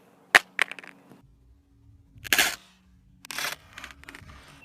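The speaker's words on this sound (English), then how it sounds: "I'm going to try and drop it face down, see if it would crack" A Samsung Galaxy S6 Edge smartphone is dropped face down onto its rear glass. A sharp impact cracks out, then a quick smaller bounce and clatter; a second burst of knocking follows, with later handling noises at close range.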